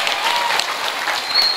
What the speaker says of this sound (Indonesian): Siti Aminah, tepuk tangan.